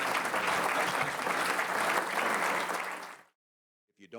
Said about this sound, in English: Could you give a round of applause to our great panel?